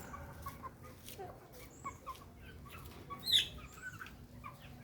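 Native country chicken chicks and young fowl cluck and cheep in scattered short calls at a farm, with one sharper, louder chirp standing out over a low background.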